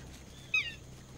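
A small dinosaur in the Jurassic Park: Operation Genesis video game gives a single short, high, bird-like chirp over a steady low background hum.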